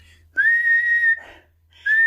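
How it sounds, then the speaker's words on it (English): Two shrill whistle blasts, the first long and steady, the second starting after a short gap; clear and close with no talking. "if you're in trouble, you whistle"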